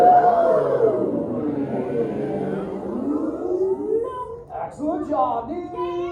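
An audience at the EPCOT Turtle Talk with Crush show imitates whale speech, many voices together in a long, wavering, drawn-out moan, ending in scattered voices and chatter.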